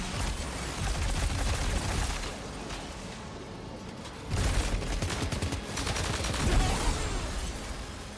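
Gunfire rattles through a Death Stranding 2 firefight, dense bursts of shots in rapid succession that briefly ease off and then surge again, loud and close over a steady game soundscape, with no talking.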